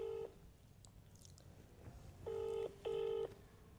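A mobile phone being dialed gives off three distinct keypad tones, one short beep at the start and two longer ones close together near the end, faint and near, with quiet rustling between them.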